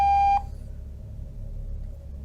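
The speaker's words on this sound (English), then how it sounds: "Please leave a message after the tone." A voicemail system sounds a single steady electronic beep, clean and fairly loud, that cuts off quickly and gives way to a low hum of line noise.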